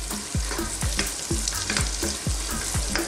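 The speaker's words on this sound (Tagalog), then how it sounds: "Saludan natin yung ating sibuyas." Onions sautéing for a seafood pasta, a dense continuous sizzle with a regular rhythm of spatula strokes scraping the pan roughly every half second, close and loud, no talking.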